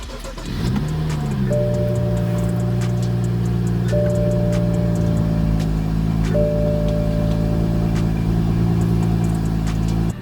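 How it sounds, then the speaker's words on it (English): A BMW 335i N55 car engine idling steadily and loudly nearby after an oil change, a constant low hum with faint ticking on top. "it honestly sounds like the engine is a little bit quieter in terms of its knocks and ticks"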